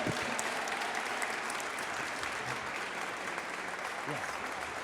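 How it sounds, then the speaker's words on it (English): Sustained applause from an audience at an SFPD Officer of the Month ceremony, a steady dense wash of clapping held at even volume throughout, with possible voices mixed in. "one more large round of applause for all of today's honorees"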